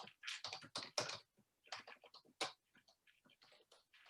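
Keystrokes on a computer keyboard while entering multi-line input, quick irregular clusters of clicks and taps with short pauses between bursts, fairly quiet and close, with no voices.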